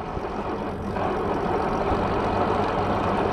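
A Bafang BBSHD 1000 W mid-drive e-bike motor runs on throttle in first gear, giving a steady, close mechanical hum and whir mixed with road and wind noise, with no talking.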